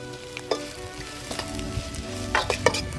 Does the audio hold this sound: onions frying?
yes